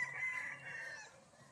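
A single game-farm fighting rooster lets out one short, strained crow nearby, fading away quickly against a quiet farmyard background.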